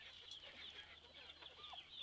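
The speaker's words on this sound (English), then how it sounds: "these Brahmas are really good hens" A Brahma hen clucks softly in a few brief low calls, faint and close against a steady noisy background.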